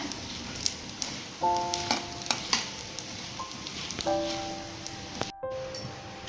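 Lentils dry-roast in a pan for cabbage chutney, making irregular scraping and rattling clicks of stirring over a faint background, with short tonal beeps at times and a brief near-silent gap near the end.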